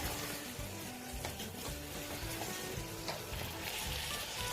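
Spices, salt and tomato puree are stirred together in a hot pan on the stove, giving a steady close sizzle with soft scraping movements and no talking.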